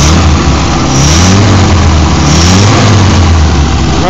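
A restored Bugeye Sprite engine with good oil pressure runs loud and close, idling with a steady low drone and rising and falling revs throughout.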